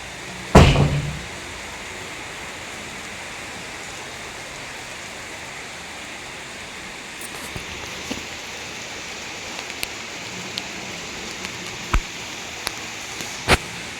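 Heavy rain pours steadily, a dense continuous hiss close by, with a loud knock near the start and a few scattered sharp taps and drips later on. Nobody speaks.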